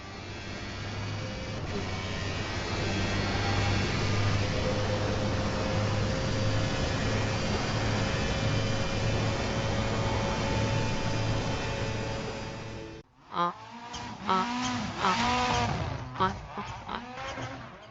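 Racing car engines in the rFactor 2 sim racing game hum and whine steadily for about thirteen seconds, then cut to a different passage with shifting revs and bursts. A voice talks over the engine noise.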